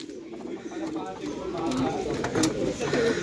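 Soft, rolling pigeon coos repeat close by, mixed with background chatter and a low murmur of voices.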